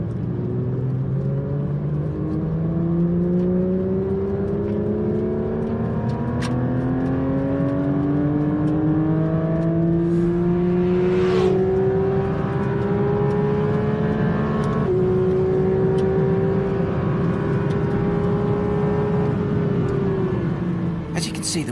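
A Porsche GT3 Touring and a GT3 RS accelerate together from a rolling start in third and fourth gear, their engines rising in pitch in long sustained pulls with an upshift midway, loud and continuous, with talk over the engines.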